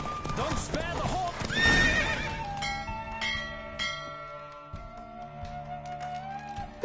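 Horse hooves clip-clop at a gallop in The Witcher 3 while the horse whinnies, loud and close, with a bell ringing in the game's background and a voice speaking over part of it.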